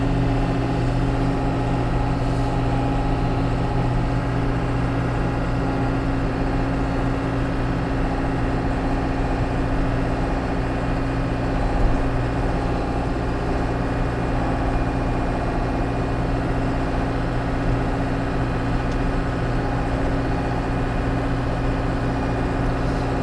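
A tractor engine drones steadily while driving through snow, a constant low hum with no pauses and no voices.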